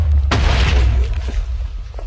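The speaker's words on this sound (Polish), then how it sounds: "Doszło do jakiegoś wybuchu dość dużego" A large explosion in Minecraft hits as a loud, deep boom, then rumbles and crumbles away over about two seconds.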